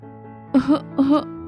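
Two quick coughs close by, separated by a brief pause, over a faint low hum.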